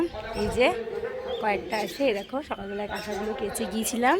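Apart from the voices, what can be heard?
birds calling in a mango tree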